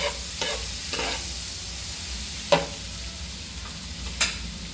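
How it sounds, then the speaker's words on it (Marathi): Chopped onion sautéing in a pan for restaurant-style masala pav, a soft steady sizzle under occasional spoon scrapes and a few sharp clinks of utensil against metal, with no talking. "दोन तीन चमचे कांदा आता थोडं आपण परतून घेऊया"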